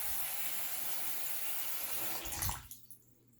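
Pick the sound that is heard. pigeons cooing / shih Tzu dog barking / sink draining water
sink draining water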